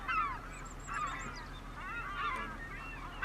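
A flock of gulls in Farming Simulator 25, on a Western Australia farm map, keeps up overlapping calls and squeals at moderate loudness over a continuous low background hum.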